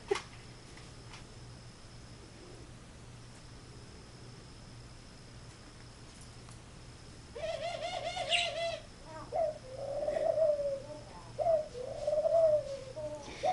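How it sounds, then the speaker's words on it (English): Doves coo in soft, repeated low calls, fairly close, after a stretch of quiet background hum. "my doves are doing their thing back there. They sound so funny."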